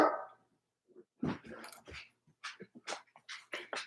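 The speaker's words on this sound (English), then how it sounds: "Don't you come in here and start barking." A dog gives a short bark near the start, followed by quieter whines, pants and small vocal noises in bursts.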